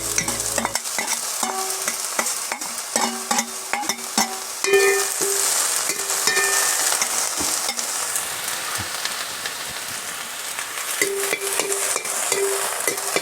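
Winged ants being dry-fried and stirred in a hot pan, a steady sizzle running throughout with repeated scraping and stirring clatter, close and fairly loud, with no talking.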